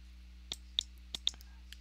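A computer mouse clicks several times in quick, sharp, close succession during a chart trading session, with a few faint softer ticks between the louder clicks and a low steady hum underneath.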